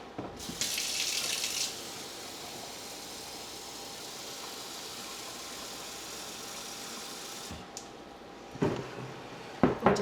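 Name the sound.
tap running cold water into a measuring cup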